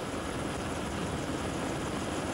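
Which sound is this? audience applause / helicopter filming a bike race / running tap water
helicopter filming a bike race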